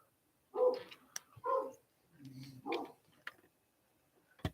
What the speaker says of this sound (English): the dogs are going nuts